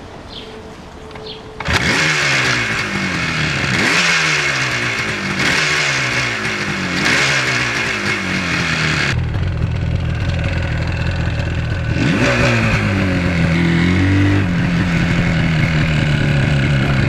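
A Yamaha RD400 two-stroke motorcycle accelerates up through the gears, its loud ringing engine rising in pitch and dropping at each shift in a repeated pattern, then settles into steadier running.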